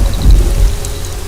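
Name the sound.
heavy rain and thunder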